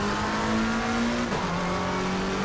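GT3 race car engine in the sim racing game Assetto Corsa Competizione, a loud steady drone that drops in pitch on an upshift midway, then holds, with no talking.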